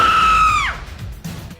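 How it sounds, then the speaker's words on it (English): A very loud, drawn-out burp, a sustained tonal belch that bends downward and cuts off sharply after about half a second, followed by quieter background noise. "Loudest burp."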